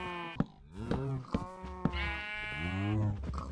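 Sheep bleat repeatedly in the block-building game Minecraft, several wavering, nasal cries in a row with short gaps between them, fairly close and clear, with no talking over them.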